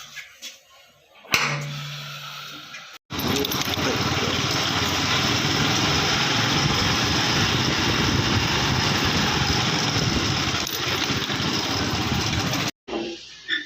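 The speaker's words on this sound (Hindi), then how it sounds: "अब मैं जो है वो बाइक को बाहर निकाल रहा हूँ" Motorbike engine idling steadily and loudly at close range for about ten seconds as the bike is taken out, cutting in after a brief clatter and stopping near the end.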